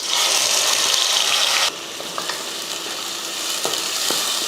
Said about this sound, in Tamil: நல்லா பொன்னிறமாக வதக்கலாம்